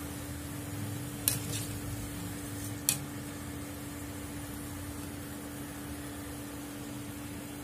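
Cauliflower (gobi) frying in oil, a soft, steady sizzle under a faint constant hum, with two brief sharp clicks early on.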